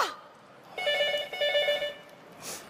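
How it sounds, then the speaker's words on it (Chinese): A telephone rings on a comedy sketch stage, a bright electronic double ring heard twice in quick succession, fairly close, after a brief swoop of sound. "接电话。"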